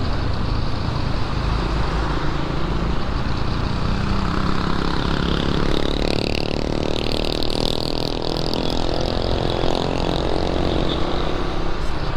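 A steady, loud engine drone runs continuously with broad noisy rumble, like a motorcycle idling up close; a Raider 150 Fi motorcycle making an odd noise, just after heavy rain.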